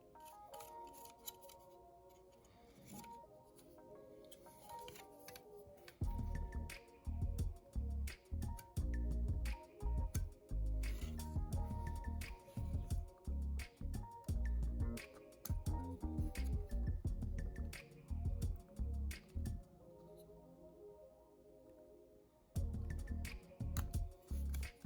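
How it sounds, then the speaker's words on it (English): Back of an X-Acto knife scribing panel lines into the plastic body of a Revell 1970 Pontiac Firebird model, giving repeated close scratchy strokes in bursts with short pauses, no talking. "Just going to dig these panel lines in a little deeper."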